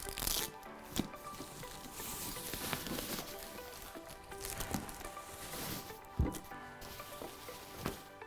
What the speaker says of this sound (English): To begin, we're going to unwrap our machine.